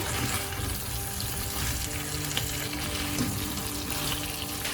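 Food with lentil cakes sizzles and shifts in a hot pan as it is stirred, a continuous crackling hiss with no talking.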